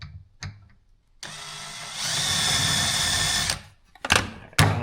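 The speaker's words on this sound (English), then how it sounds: "I'm using a drill bit that's the same size as the hole in here just to mark the wood." A power drill spins up with a drill bit to mark wood for a DIY overlanding drawer system for an SUV or van, a steady whine for a couple of seconds between short bursts and quiet gaps.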